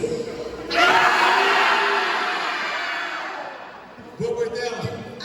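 Students in a large class roar together on cue in one sustained loud shout that slowly fades, followed by someone speaking.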